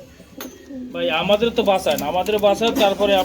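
Running pigeons at a busy pigeon market coo in repeated throaty, pulsing calls, close and loud, with a voice talking nearby at the start.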